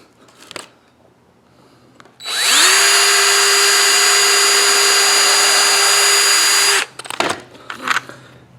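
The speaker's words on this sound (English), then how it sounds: "Now we're going to go ahead and drill and put 1 screw in each one of these corners" A power drill spins up sharply and whirs at a steady high pitch for about four seconds, driving a 3-inch screw into a wood corner close by, then stops, followed by light handling noises.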